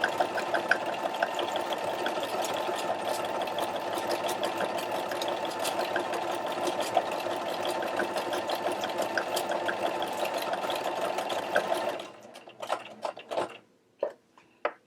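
Close and steady, a sewing machine rapidly stitches a buttonhole into a denim jacket, its fast mechanical chatter running continuously for twelve seconds before slowing into a few separate clunks and taps as it stops.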